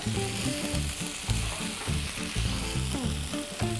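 Butter sizzling in a pan while cooking a creamy ramen with pollack roe and shrimp: a constant, fairly loud crackling hiss runs throughout, with rhythmic musical tones playing over it and no talking.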